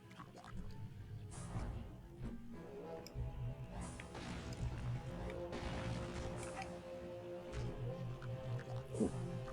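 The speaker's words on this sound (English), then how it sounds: "We're finally breaking that glass open." Glass smashes and cracks in the video game Psychonauts, with repeated hits and crashes from the game audio mixed among other game effects, while a person talks over it.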